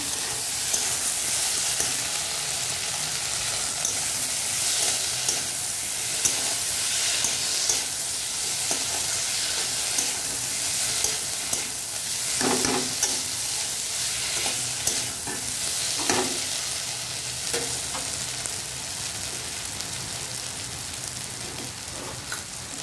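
Spice paste with turmeric and salt frying in a pan gives a loud, steady, rain-like sizzle, with occasional stirring scrapes and knocks rising above it, close up and without voices.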